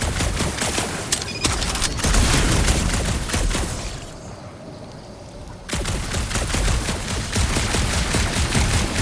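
Rapid gunfire from Marvel's Guardians of the Galaxy on PS5, with dense, loud bursts of shots rattling continuously, a short lull midway, then the barrage resuming.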